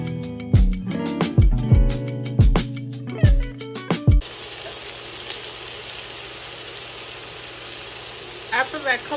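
Jumbo garlic butter shrimp fry in a pan with a steady close sizzle; it begins after a run of sharp musical plucked notes, and faint brief clinks come near the end.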